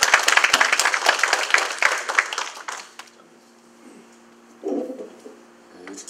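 A crowd at a campaign launch event applauds to welcome a speaker, a lively burst of clapping for about three seconds that quickly dies away, leaving a quiet room with a brief murmur afterward.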